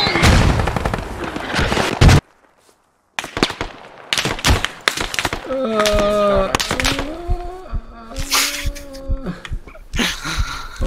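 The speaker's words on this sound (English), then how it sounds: "I went to go heal John and start getting shot at like crazy" Gunfire in the military shooter game Squad: rapid, loud bursts of shots and cracks, a brief silent gap, then scattered volleys and heavy impacts over several seconds, with some voice-like wails mixed in.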